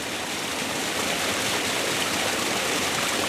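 A small waterfall spilling into a stream off a hiking trail in the woods makes a steady, dense rushing wash that stays loud and even throughout, with no voices.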